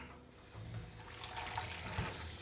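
Cold tap water pours over rice in a strainer at a sink, a steady splashing rush that swells slightly louder partway through, close by with no talking.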